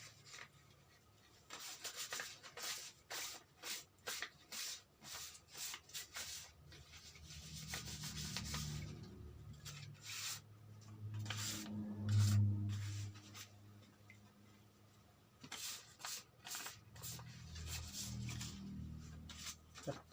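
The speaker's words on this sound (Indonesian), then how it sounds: "Mio M3 ini kita pakai amplas nomor 1500" A Yamaha Mio M3 scooter cylinder block is sanded by hand with 1500-grit sandpaper, giving soft rhythmic rubbing strokes that come in bursts and pauses, faint and close.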